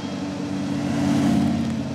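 A Boss Hoss motorcycle's big engine rumbling steadily while being ridden gently without hard acceleration, a deep continuous low drone with no speech over it.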